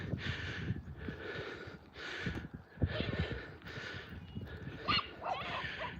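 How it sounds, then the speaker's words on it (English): A spaniel and several other dogs, seven in all, romp and chase each other outdoors in open space, giving faint scuffles, snorts, panting and a few small yips at a distance. "But Harris, which is the spaniel in the front, just loves getting chased around."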